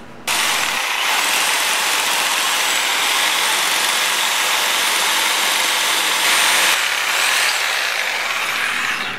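A power tool cuts off metal bosses on a Honda Sabre motorcycle frame, a loud, steady, harsh grinding roar that holds for about nine seconds with a brief shift in pitch late in the cut.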